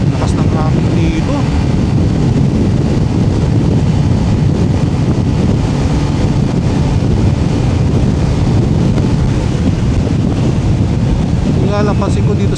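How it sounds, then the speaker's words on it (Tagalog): Strong wind roars and buffets the microphone continuously while riding a Honda ADV 160 scooter, a loud steady rush with no let-up. "Lakas ng hangin dito."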